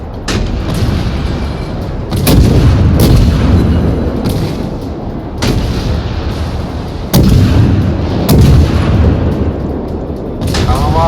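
Booming naval artillery salvos from warships in the World of Warships video game, loud repeated blasts at irregular intervals with rumbling tails, while a player shouts excitedly over the firing.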